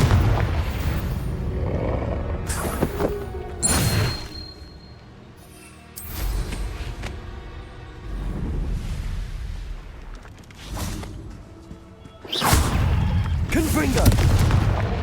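Fiery Confringo spell blasts in the wizarding game Hogwarts Legacy, several heavy booming explosions at irregular intervals with quieter stretches between, amid combat sounds and a voice.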